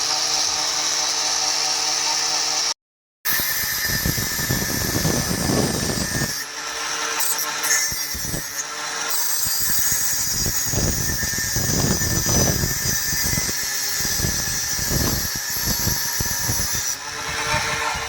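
An angle grinder cuts through metal in a car repair bay during a mount replacement job, a loud, continuous high-pitched whine that drops out briefly near the start, then grinds on with rising and falling bursts throughout.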